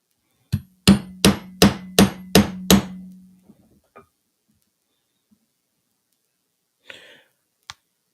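Six sharp, evenly spaced hammer blows ring out close up as rivets are set into leather, each strike with a short metallic ring, followed by a few faint taps and soft breaths.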